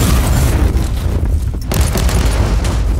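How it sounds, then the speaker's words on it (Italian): Missile barrage in the action game Warhammer 40k: Inquisitor, a loud, continuous rumble of booms and rapid explosions filling the whole stretch, with a brief dip in the middle before the blasts resume. "adesso sparo i missili"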